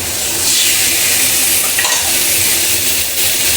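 Fish sizzles loudly as it goes into hot oil in a pan already holding garlic paste, onion paste, salt and turmeric, a steady close frying hiss with a stir scrape near the middle and no talking.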